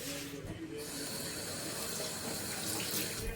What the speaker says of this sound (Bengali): তেলের ছিট আসছে।